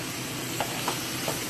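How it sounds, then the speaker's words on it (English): Shredded cabbage sautés in a pot for Jamaican cooked cabbage, with a steady, close sizzle and hiss broken by three faint scrapes of stirring. "And I'm going to just stir it through,"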